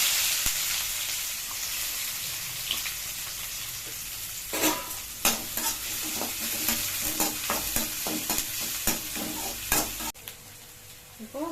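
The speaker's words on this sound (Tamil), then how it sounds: "இப்போ வெங்காயம் லைட்டா வதங்கிடுச்சு" Onions sautéing in a pan of hot oil with popped mustard seeds for a soya greens and prawn gravy, a steady sizzle broken by repeated scraping stirs that grow busier partway through.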